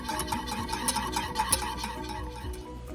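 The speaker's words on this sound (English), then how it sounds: "and just whisk briskly" Ketchup, maple syrup and cinnamon whiskey are whisked briskly in a bowl, giving a soft, fast rhythmic clinking and swishing of the whisk against the bowl, close and steady, with no talking.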